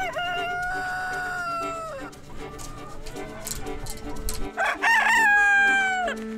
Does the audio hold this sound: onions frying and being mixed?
no